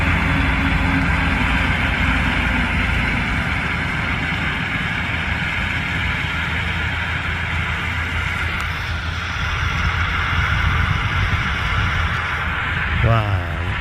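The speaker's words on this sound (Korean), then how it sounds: "회전 또 하면서 로터베이터 들지 않고 바로 작업하면서 진행 앞으로 진행하고 계십니다" A Kubota GM73 tractor drives forward with its rotavator dug in and working the soil, its engine a steady loud drone with a rough churning rumble throughout and a brief rattle near the end.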